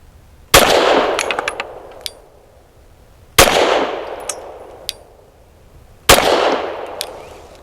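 A Glock pistol fitted with a Lone Wolf Alpha Wolf barrel firing Remington UMC 124 grain rounds, three sharp loud shots spaced a few seconds apart, each with a ringing decay and faint metallic clinks of ejected casings, no talking.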